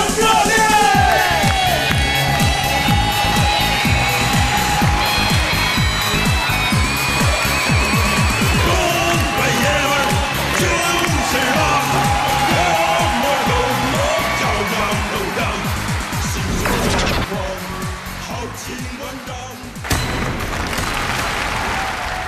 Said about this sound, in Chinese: 来，我们掌声有请他出场